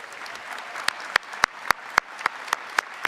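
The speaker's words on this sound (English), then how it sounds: "Why don't we give each of you a round of applause" Audience applause at a George Brown College convocation, a soft continuous patter of many hands with a few sharp, louder claps standing out at regular intervals.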